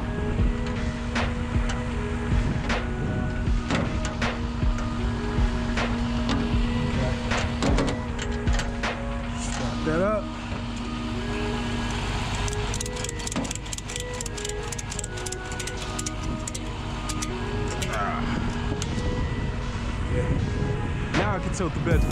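A tow truck flatbed tilts back while loading a Porsche Macan, with a steady mechanical hydraulic hum, rattles and clanks running continuously under a voice.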